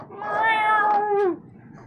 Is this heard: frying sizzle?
no